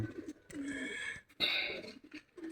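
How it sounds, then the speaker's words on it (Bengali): Doves on a rooftop coop where a mother dove sits on eggs give soft cooing calls in two bursts, close and moderately loud, with faint background voices. "আমার মা ঘুঘু ডিম নিয়ে বসে আছে।"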